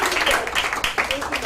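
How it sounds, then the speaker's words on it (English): Audience applause at a live event held for Earth Hour with a celebrity and WWF, a dense wash of clapping that swells and dips in waves, with voices mixed into the crowd noise. "Big round of applause to Ritu Padna and Ritu."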